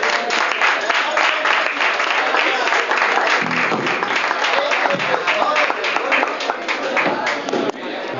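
An audience at a blues concert breaks into sustained applause: dense, continuous clapping from a crowd, loud and close, holding steady for several seconds with a few louder thumps scattered through it.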